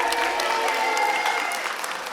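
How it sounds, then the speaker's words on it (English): Concert audience applause at an end-of-camp music concert, a dense, loud, continuous wash of clapping from a crowd, with a faint voice mixed in. "With double the applause,"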